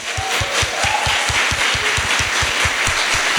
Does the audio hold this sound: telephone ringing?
no